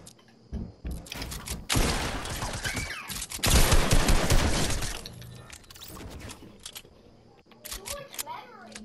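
In the video game Fortnite, a blue shotgun fires in loud, harsh blasts with shattering crashes, the bursts clustered over several seconds, while a player talks over the action.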